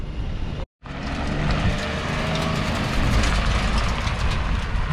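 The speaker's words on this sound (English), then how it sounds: "It's a burnout" A Kyosho FW-06 two-speed chassis RC car doing a burnout gives a loud, steady mechanical roar that drops out briefly near the start, then resumes and holds strong to the end.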